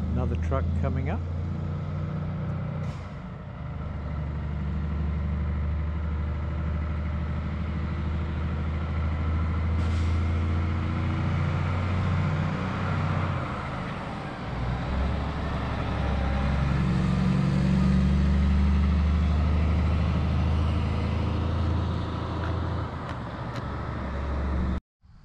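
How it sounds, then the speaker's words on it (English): A truck approaching on an outback road near Yerdani Well in Western Australia: a continuous engine drone and road rumble that swells gradually as it draws closer and grows loudest before stopping suddenly at the end. "Another truck coming up."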